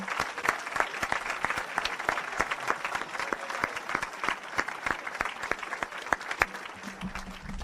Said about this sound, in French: Ah, on peut l'acclamer, hein?